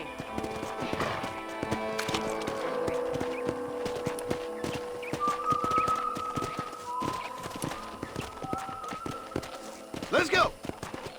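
Horse hooves clip-clopping steadily in a Western-style video game, a close, regular trot that runs throughout along with a neigh and game music, while characters talk.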